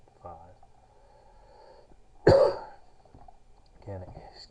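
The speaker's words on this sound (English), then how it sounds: "I'm getting over a case of strep throat here, so apologize if I cough" A person recovering from strep throat gives one sharp, loud cough and throat clear, close to the microphone, with faint speech before and after.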